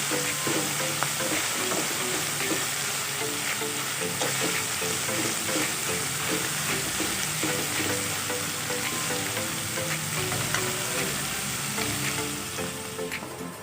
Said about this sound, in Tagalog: igigisa lang natin to ng mabuti